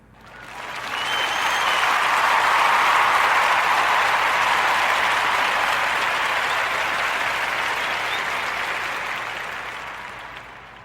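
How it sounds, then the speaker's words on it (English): A full round of applause from a crowd, swelling quickly, holding steady for several seconds, then slowly tapering off. "in giving our brother, young Jordan Jackson, a warm narrative podcast round of applause for his former store, Birch and Penn in South Carolina."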